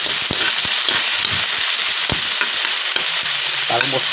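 Sweet potato tops being sautéed in a hot pan: loud, steady sizzling and crackling with sharp pops and spoon scrapes scattered throughout, close up, with no talking.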